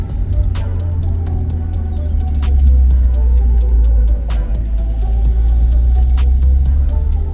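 Loud, steady low engine rumble from inside a 1996 Toyota Celica GT4 accelerating, with faint ticks and clicks scattered over the drone.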